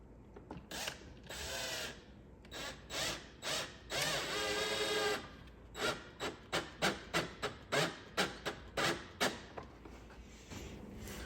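A power tool drives screws into a wire mesh grill screen on the front bumper of a Porsche Cayman S, heard nearby as a longer whir followed by a run of short, rapid, ratcheting bursts.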